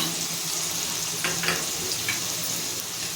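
Fish fries in hot oil with onion paste, salt, turmeric and spices, giving a constant dense sizzle close by, with a few faint stirring scrapes and no talking.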